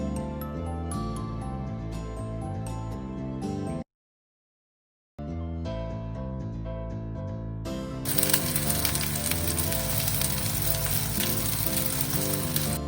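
Cooking oil poured liberally into a pan for chicken and cheese-filled patties; a steady, dense sizzle swells in during the latter part, partly under continuous background music.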